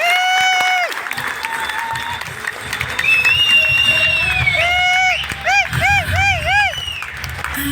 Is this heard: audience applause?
yes